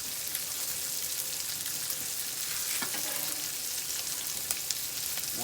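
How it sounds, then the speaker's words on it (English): Onions sizzle and crackle steadily in a hot pan, a dense close frying hiss with scattered pops and faint scraping of stirring throughout. "Once we get these onions to a nice color, we're going to add them"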